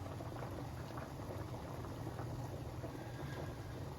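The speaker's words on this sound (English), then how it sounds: "I fried the guanciale." Guanciale frying in its own rendered fat over medium heat, a steady dense sizzle and crackle held close and even throughout, with no voices.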